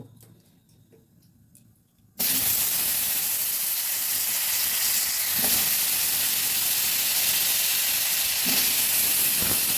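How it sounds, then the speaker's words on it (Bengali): Potato strips hitting hot oil with salt and turmeric, a loud steady sizzle that bursts in after a quiet start and holds continuously at close range. "এখন এগুলো ভেজে নেব"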